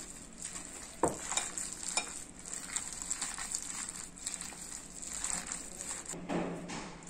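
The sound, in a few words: mixing spinach pakoda batter gently by hand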